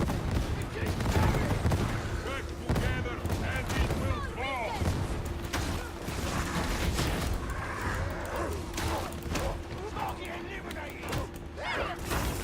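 Grenade blasts and combat noise in the Ogryn update of a co-op action video game, a pair of explosions thudding within a dense, continuous din of gunfire and effects, with a voice talking over the mix.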